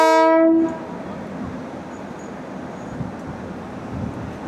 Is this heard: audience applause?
no